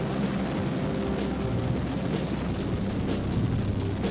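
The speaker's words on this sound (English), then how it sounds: "The EH-101 moves through the air like a hummingbird." An EH-101 helicopter flies overhead with a steady, loud rotor thrum and engine whine that hold constant throughout, with no voices.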